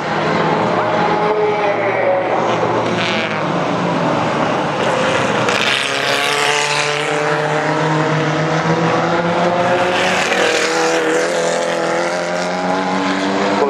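Maserati racing car at the Goodwood Madgwick Cup, its loud engine note rising and sweeping past with strong harmonic whine, continuous for over ten seconds while other cars roar nearby.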